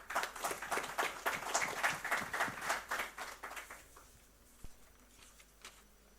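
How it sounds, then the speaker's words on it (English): Audience applause at a chemicals and petrochemicals industry event in Gujarat, a dense patter of many hands clapping that swells, then thins and fades out over several seconds, with a faint thump near the end. "A huge round of applause."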